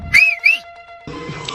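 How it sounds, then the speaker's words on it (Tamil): A hand whistle gives two short, shrill blasts close by, followed by a pause and then a burst of noisy background sound. "இந்த விசில் எடுத்து ஊதணும்"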